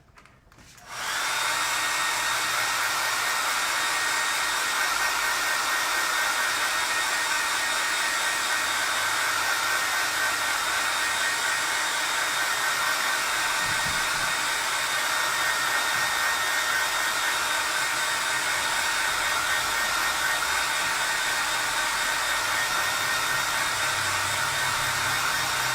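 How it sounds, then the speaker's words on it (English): A hair dryer runs steadily at close range, blowing on a wet acrylic painting of a deciduous tree; a constant loud whoosh starts abruptly and holds for the whole stretch with no talking. "let's blow dry our deciduous tree"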